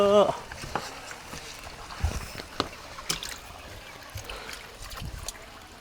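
A boat out on the water at an inexpensive Punjab photoshoot location gives a steady wash of water and rushing wind, close and unbroken, with faint voices mixed in.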